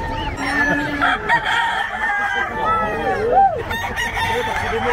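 Loud, close chickens, including gamecocks, clucking with a rooster crowing among them, layered over busy background chatter at a crowded pet market in Bocaue.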